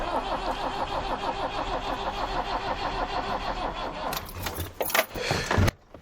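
An old 1990 Iveco Daily 35-8 diesel cranking on a booster without catching, a long steady rhythmic churn of the starter for about four seconds, then clattering bursts before it cuts off abruptly.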